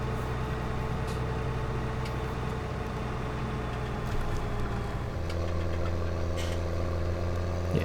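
A Land Rover Defender engine idles in the farming game Farming Simulator 17, a steady mechanical drone that drops to a lower, smoother tone about five seconds in and carries on evenly.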